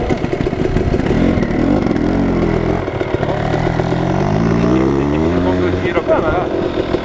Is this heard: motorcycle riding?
yes